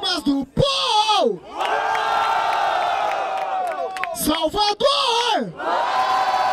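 Crowd at a Brazilian freestyle rap battle in Barueri, São Paulo, cheering and shouting loudly for several seconds, with bursts of whooping and an MC's voice calling out over the noise.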